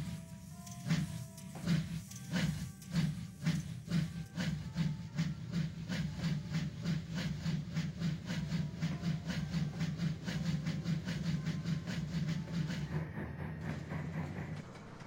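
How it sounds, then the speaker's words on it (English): A steam locomotive puffs away at a steady rhythm, quickening chuffs with hissing steam, moderately close and continuous, with no voices over it. "and Alfred puffed away."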